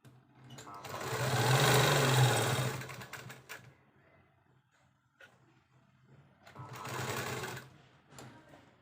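A sewing machine runs a seam along three sides of a baby frock, heard as two loud, steady whirring bursts separated by a quieter pause with light handling noises.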